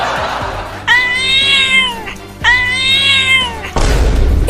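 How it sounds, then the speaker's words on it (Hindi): A cat lets out two long, loud, wailing meows, one after the other, close by and clear. Short noisy bursts come before and after, in a comic scene where a cat's home has been wrecked. "इस बिल्ली को तो मैं अकेला ही भगा दूंगा।"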